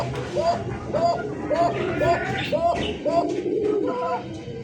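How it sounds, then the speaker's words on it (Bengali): Kokka pigeons at a Bengali pigeon farm give a steady run of about seven rhythmic coos, close and clear, over a murmur of background voices. "দেখছেন কোকার ডাক"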